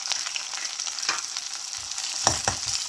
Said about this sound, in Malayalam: അതും കൂടി ഇതിലേക്ക് ഇട്ട് കൊടുക്കാം.